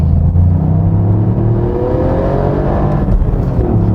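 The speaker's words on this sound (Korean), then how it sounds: "이 가속 리스폰스는 뭐 비슷하거나 조금 더 빠른 것 같긴 합니다, 스포츠랑 비교했을 때." A Toyota GR Yaris in track mode accelerates hard on the winding Chugok Mineral Spring road, its engine loud and close with a steadily rising whine and rumble throughout.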